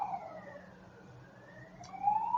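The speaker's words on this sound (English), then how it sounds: "More sirens." Emergency vehicle sirens wail outside, a rising and falling tone that is faint in the middle and grows louder toward the end as they approach, heard from indoors with no talking.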